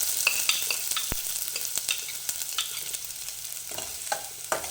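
Chopped onion hits a pan of hot oil with a piece of cinnamon and sizzles steadily up close. Sharp clicks and scrapes of a spoon stirring break through at intervals.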